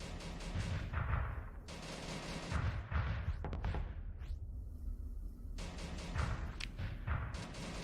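Ship weapons blast repeatedly in a Starsector space battle, heavy booming shots and thuds coming in dense bursts with short gaps, loud and continuous.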